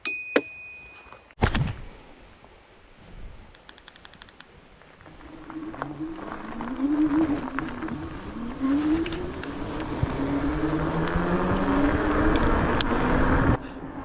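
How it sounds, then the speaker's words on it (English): A Lacros Thunder e-bike's bicycle bell rings a few sharp dings up close, followed by rising wind and motor noise as the bike rides off-road, with no voices. "Even has a bell."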